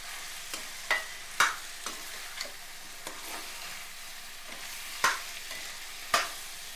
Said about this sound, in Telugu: ఇది బాగా దోరగా వేగాలన్నమాట.